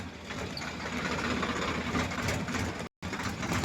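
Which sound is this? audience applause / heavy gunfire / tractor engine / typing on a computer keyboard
tractor engine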